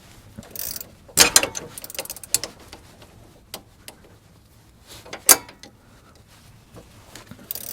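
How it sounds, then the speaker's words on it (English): Ratcheting wrench loosening a tight nut on the stabilizer link of a GM 1500 truck, heard as bursts of sharp, close ratchet clicks separated by pauses and faint clanks, with no talk. "I'm going to use a ratcheting wrench up on top."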